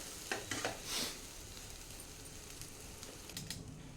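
Schezwan rice stirred in a hot pan: soft scraping stirs and light sizzling, with a few brief clatters early and near the end, fairly quiet and close, no talk.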